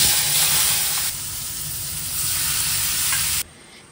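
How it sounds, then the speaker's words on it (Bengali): Potatoes frying in a pan give a loud, close, continuous sizzle and hiss that dips slightly partway through, then drops off sharply near the end, with no speech. "এখন আলুটা চট করে ভেজে নিই।"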